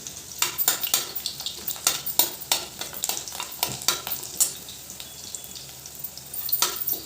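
Garlic frying in oil in a pan for a spicy sprouted moth bean usal, a steady soft sizzle broken by repeated sharp scrapes and clinks of a spoon stirring against the pan, close and with no talking.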